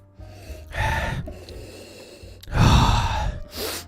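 Close, audible nasal sniffs at a glass of Buffalo Trace George T. Stagg whiskey, a store pick: three separate inhales with quiet pauses between them.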